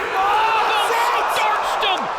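Arena crowd roaring and cheering during a knockout in a combat-sports fight, a loud continuous swell of voices with whoops, while an excited commentator's voice runs over the noise.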